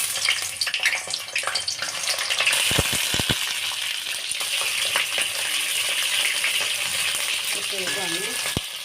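Pointed gourd pieces fry in hot oil in a pan, a loud continuous sizzle and crackle with occasional clinks of a spoon stirring.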